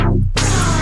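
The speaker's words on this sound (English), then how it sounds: "so that's what it sounds like without the dry wet control." A bass-heavy synth passage in Ableton with a fully wet low-pass filter that sweeps shut and then snaps back open, producing a short muffled 'womp' dip before bright sound returns, loud and close.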